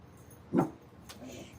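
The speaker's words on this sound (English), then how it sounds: "But that over there, that's just a doggy." A single short dog bark or yip rings out close by at moderate loudness, with faint background noise before and after and no talking.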